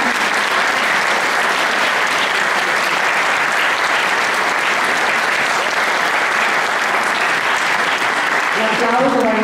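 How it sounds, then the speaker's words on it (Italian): Sustained, loud applause from a large crowd at a New Year's Eve celebration in Crespano del Grappa, a continuous wash of clapping lasting throughout and swelling slightly at the end. "facciamo un applauso a questa espressione nata da un bambino"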